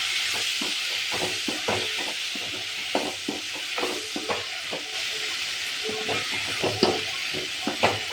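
Potato pieces sizzle in a frying pan as a spoon stirs them, with repeated scraping clinks against the pan over a steady hiss, close and moderately loud, with no talking.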